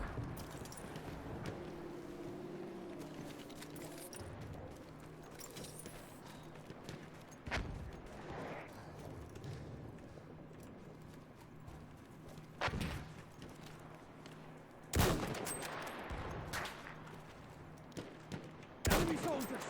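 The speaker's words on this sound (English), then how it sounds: "Okay, somebody's still shooting at me." Gunfire in the video game Battlefield 1, scattered loud shots and a few sharp bursts spread across a quiet battlefield backdrop, some close, others distant.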